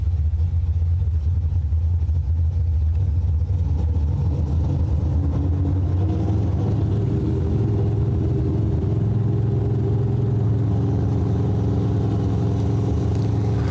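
At an old school bracket drag race, cars including a yellow Corvette rumble with a deep, steady engine drone that builds gradually, loud and continuous with no talk.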